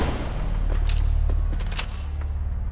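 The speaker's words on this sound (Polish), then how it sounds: "Te strzały chcą się dawać we znaki, nie?" Gunfire in the video game Trepang2: a dense, continuous barrage of loud shots with sharp crackling bursts over a heavy low rumble, steady throughout.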